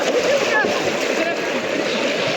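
People play in the water of the Shri Tulja Bhavani temple pond, making a steady wash of splashing and sloshing while voices talk over it.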